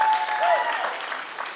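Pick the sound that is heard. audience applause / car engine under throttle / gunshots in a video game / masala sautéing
audience applause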